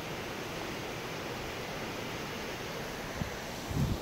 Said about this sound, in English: aren't those waterfalls beautiful?